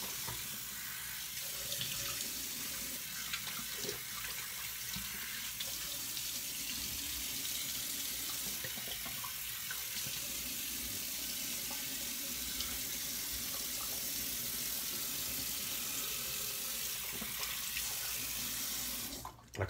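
A bathroom tap runs steadily into a sink for rinsing after a shave, a quiet continuous splashing stream lasting throughout, with no talking.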